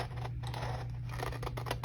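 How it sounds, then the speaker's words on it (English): Scissors snip steadily around a paper taco-shaped teacher gift card holder, a close, continuous rasping cut under a faint low hum. "I'm just going to take my scissors and I'm going to just be cutting around the outside"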